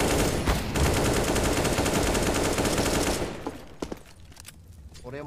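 Rapid automatic gunfire in CS:GO, a dense, loud burst of shots lasting about three seconds, followed by a few scattered, quieter single shots.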